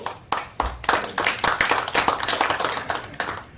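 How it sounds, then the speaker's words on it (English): People at a California Board of Legal Specialization meeting clap, a close, loud patter of several pairs of hands that starts abruptly and continues unevenly for a few seconds. "I think they're clapping for us, Mike."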